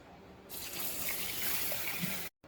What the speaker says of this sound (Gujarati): સૌથી પહેલાં તો આપણે ચોખાને 2 થી 3 પાણીથી ધોઈ અને 20 મિનિટ સુધી આપણે એને પલાળી અને મૂકી દઈશું